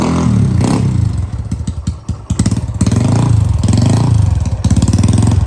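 A Honda Wave 110i motorcycle with a muffled exhaust and a 54 mm bore runs close and loud with a steady mid-pitched engine drone. It dips briefly near the two-second mark, then resumes with a pulsing throttle.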